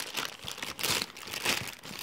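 A thin plastic bag wrapping a Vortex Viper PST 2.5-10x32 rifle scope crinkles and rustles softly in a few short bursts, close by and quiet, with no talk.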